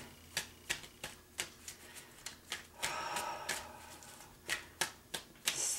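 Tarot cards shuffled by hand at close range: a steady series of crisp, papery flicks and slaps with a longer riffling burst midway, all alone in a quiet room.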